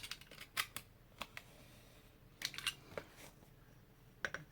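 Scissors cut paper pieces on a cutting mat for an altered-book craft, making faint, scattered snips and light paper rustles in a quiet room.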